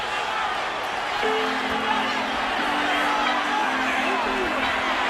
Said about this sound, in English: here comes the crowd on their feet. Everybody's up.